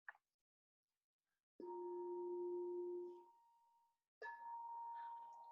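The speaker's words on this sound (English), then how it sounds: "I'm just going to strike this bowl" Singing bowl struck twice in a calm wellness session, each strike a soft mallet hit followed by a pure, sustained ringing tone that slowly fades, quiet and close with no talking.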